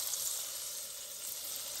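Pats of butter heating in a pan until almost brown: a soft, steady hiss of sizzling, faint and even throughout, nothing else heard.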